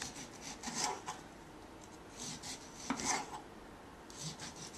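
A knife shaves the peel off the sides of an orange in short scraping strokes, a few soft rasping bursts at a close, quiet level with no talking.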